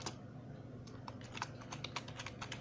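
Someone types a name on a computer keyboard in quick, uneven bursts of soft clicking keys. The keystrokes are close and fairly quiet over a steady background hiss, with no speech.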